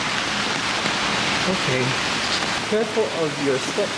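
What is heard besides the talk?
rain falling in Hiroshima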